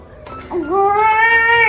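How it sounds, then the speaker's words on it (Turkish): A cat gives a single drawn-out meow, starting low and rising into a clear, sustained, fairly loud call, close by in a quiet indoor space. "Oo kedi."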